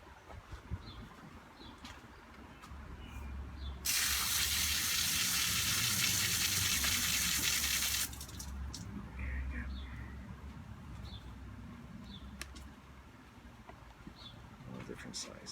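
A garden hose sprays water onto orchid pots on a potting table: a steady, loud hiss lasting about four seconds, starting and stopping abruptly, with quieter background noise and faint sounds before and after.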